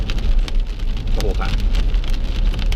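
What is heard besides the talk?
heavy rain falling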